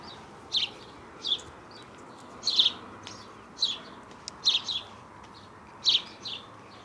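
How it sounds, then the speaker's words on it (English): Birds chirp outdoors in short, bright calls that repeat every second or so over a quiet background, some calls doubled, heard at moderate distance with no other clear sounds. "You can hear the birds."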